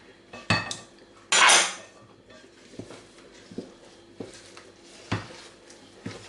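A spoon mixes a mashed potato dumpling mass with egg and potato starch in a bowl, clinking and knocking against the sides in an irregular rhythm, with one loud scraping burst early on. The sound is close, with no talk.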